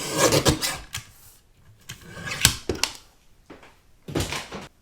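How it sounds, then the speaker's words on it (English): A small guillotine paper trimmer slicing through card at a craft desk, with several short scraping and sliding strokes and blade thunks separated by brief pauses, fairly close and clear. "Just going to bring in my little guillotine trimmer and see if I can trim this."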